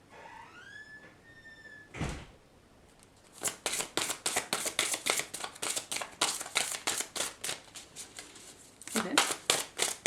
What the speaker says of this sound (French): pour mélanger